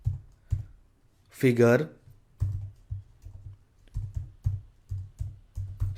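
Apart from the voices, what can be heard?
typing code on a computer keyboard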